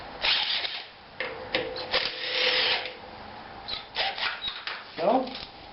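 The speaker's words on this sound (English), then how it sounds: "Again, using the impact driver." Impact driver with a 5/8 socket loosening wheel nuts on a Cub Cadet garden tractor, delivering several short bursts of rattling hammering separated by pauses and clanks of handling, close and fairly loud, with a person speaking in between.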